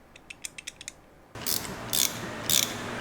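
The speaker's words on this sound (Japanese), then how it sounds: "これはチェーンのカット、ピンを抜く作業に使っています。" A Kashimaru chain tool pressing a pin out of a bicycle chain during a chain replacement: a run of small, light clicks, then a louder, sustained grinding strain broken by several sharp bursts as the pin is forced through.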